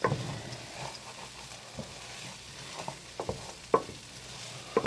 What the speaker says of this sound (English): Now comes the constant stirring part.